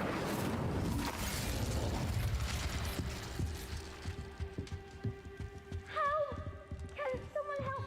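In Hogwarts Legacy, a fire spell bursts into a loud crackling, roaring whoosh that dies away into scattered pops and thuds, followed by faint tonal game effects.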